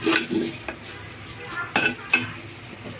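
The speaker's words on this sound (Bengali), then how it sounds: "বেশি বেশি নাড়াচাড়া করবেন যাতে নিচে লেগে না যায়" Rice and spices are stirred in a pot as they fry for beef tehari, with soft scraping spoon strokes and light clinks of utensils against the pot over a faint sizzle.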